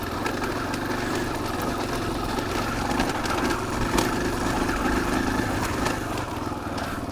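Small motorcycle engine droning steadily while riding an off-road trail between Abiquiu and El Rito, a constant mid-pitched buzz with occasional knocks and rattles from the rough ground, no talking.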